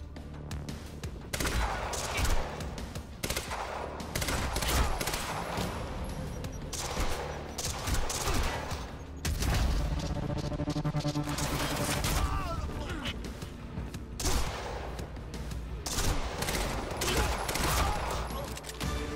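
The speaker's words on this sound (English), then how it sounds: "Burst pistols are no match for my SMG." SMG and burst pistol gunfire in a video game, rapid crackling bursts and volleys repeating across the whole stretch, dense and fairly loud, with short gaps between exchanges.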